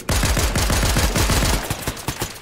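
Rapid automatic gunfire in a video game, a loud, dense burst of evenly spaced shots rattling for about two seconds before trailing off, with no talk over it.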